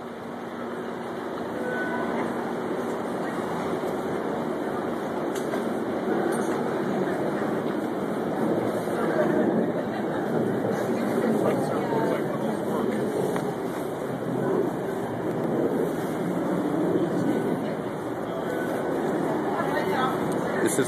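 A Sounder commuter train stands at a station in the snow, giving a steady rumbling mechanical hum with faint rail clatter, while people talk nearby.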